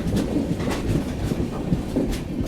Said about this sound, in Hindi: बाकी अपनी ट्रेन पहुंच रही है घोड़ा डोंगरी रेलवे स्टेशन